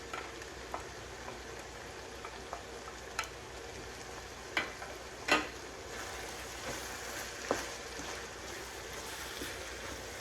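Green onions go into a pan of frying pork and fungus mushrooms for Hmong rice rolls, with a faint continuous sizzle broken by scattered sharp clinks and taps of a utensil against the pan.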